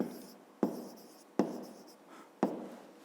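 Pen or chalk writing by hand during a fifth-grade maths lesson, with three sharp strokes or taps followed by short scratchy trails. The sound is close and clear, and no one speaks.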